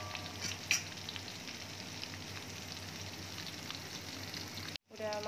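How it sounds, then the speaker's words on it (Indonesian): Steady crackling sizzle of dried shrimp frying in hot oil, continuous and close, with a brief cut near the end. "lalu kita goreng ya teman-teman"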